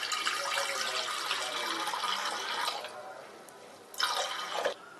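Water poured into a pressure cooker on the stove for jackfruit kalia, a close, bright splashing stream for about three seconds, then a short pause and a second brief pour.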